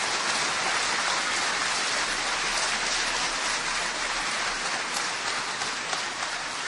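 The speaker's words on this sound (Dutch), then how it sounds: "Graag een heel hartelijk applaus voor Maarten van Rossum" An audience applauds for historian Maarten van Rossem at a live podcast event, a dense, continuous roar of clapping from a large crowd holding steady throughout.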